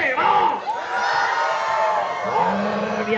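Football supporters in a sports arena cheer and shout loudly, a swelling mass of voices with whoops and chants rising and falling throughout.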